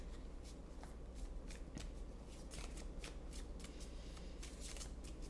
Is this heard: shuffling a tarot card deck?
yes